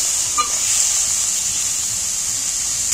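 Onions with salt frying lightly in a pan, a steady high hiss of sizzling oil holding evenly throughout with no voices.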